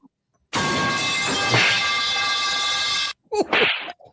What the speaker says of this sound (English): I'll drop the pipe and you hit the whip.